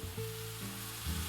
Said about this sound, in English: Saute for another 2 to 3 minutes until the noodles are cooked.